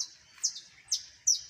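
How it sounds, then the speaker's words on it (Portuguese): Small bird chirping on a rural smallholding farm, three short bright tweets spaced apart, fairly clear against quiet background with no voices. "Tava tentando filmar o passarinho."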